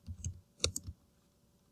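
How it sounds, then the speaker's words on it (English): Name typed on a computer keyboard: a handful of soft, close key clicks in a short uneven burst, then quiet. "So type my name"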